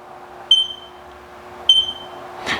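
A Haas CNC machine sounds its alarm at power-up with two short, clear beeps about a second apart, close and alone in a quiet room.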